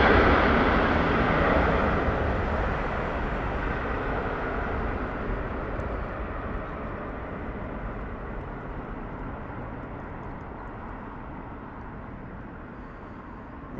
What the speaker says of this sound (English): American Airlines departing.